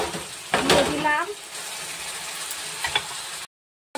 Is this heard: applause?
no